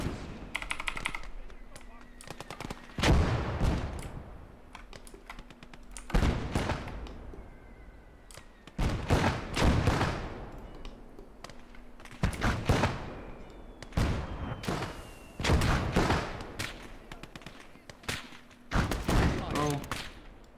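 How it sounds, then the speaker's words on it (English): Bursts of machine gun fire ring out repeatedly in the WWII shooter Gates of Hell: Ostfront, loud rattling volleys recurring every few seconds over a low battlefield rumble, with a voice talking faintly in between. "let's see if we can see where the machine gun was firing at us"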